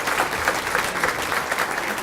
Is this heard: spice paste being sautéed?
no